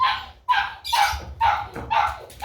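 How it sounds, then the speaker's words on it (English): An upset St. Bernard puppy barks and yips close by in five sharp, evenly spaced outbursts, with no talk over them. "We got an upset puppy."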